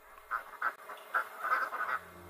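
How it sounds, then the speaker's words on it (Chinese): Ducks near water give about six short, nasal quacks in an irregular series, fairly close and clear over a quiet background. "鸭子是一种离不开水的家禽，它们喜欢在水中觅食、"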